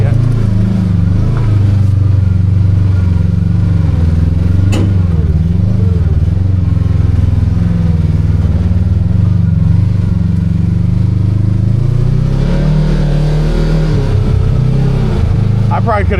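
Kawasaki KRX 1000 side-by-side fitted with a clutch kit and 35-inch tires, its engine droning loud and close as it pulls and climbs, with rising revs and clattering toward the end.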